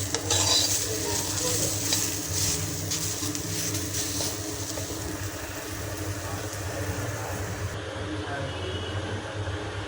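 Onions and dried chepa shutki fish fry in a pan, giving a steady close sizzle while a utensil stirs and scrapes against the metal throughout, with a brief louder burst of scraping at the start.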